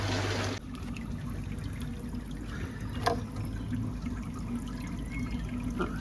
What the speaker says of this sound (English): we'll go and skim the surface of the drone tank